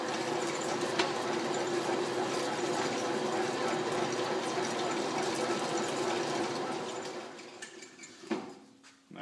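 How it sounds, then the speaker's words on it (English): A boring bar drills through 3/4 inch metal with a loud, steady grinding whir that runs continuously, then winds down and stops near the end with a few clanks as the cut finishes. "Hole through that 3/4 inch metal pretty darn quick."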